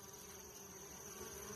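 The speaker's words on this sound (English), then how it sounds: "You can see bees showing up with pollen on their back legs." Honey bees buzz steadily at a hive during feeding, a dense, continuous drone of many wings close by, with no talk over it.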